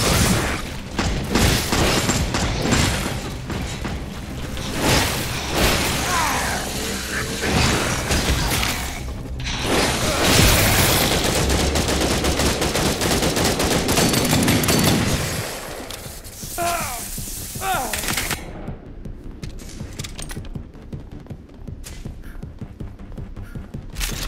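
Rapid crossbow and weapon shots from the Re:Verse beta video game, a dense barrage of booms, thuds and whooshes filling most of the stretch before thinning out toward the end.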